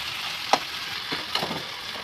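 Crumbled leftover idli fries golden in an oiled pan as a spoon stirs it, with a soft, even sizzle punctuated by a few sharp scrapes and taps close by.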